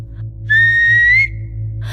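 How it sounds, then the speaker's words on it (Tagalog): A single clear whistle, loud and close, rises slightly in pitch over about a second as a sound effect, set against a low steady background hum. "Mula sa malayo ay may narinig akong parang sumipol"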